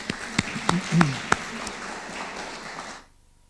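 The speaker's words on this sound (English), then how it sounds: "a quick round of applause for that" A short burst of audience applause at a press club annual dinner, with scattered sharp claps, lasting about three seconds before cutting off abruptly into silence.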